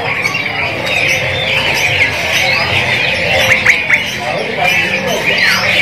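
Many caged songbirds, including magpie robins, squawk and chirp at once at a bird market, a busy, overlapping chorus of sharp calls with bursts of louder squawks.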